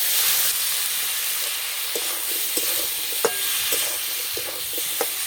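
Ground chilli, turmeric and cumin cooking with a little water in a pan, a loud continuous sizzle and hiss close by, with occasional scrapes and taps of a stirring spoon against the pan.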